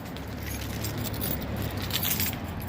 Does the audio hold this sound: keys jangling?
yes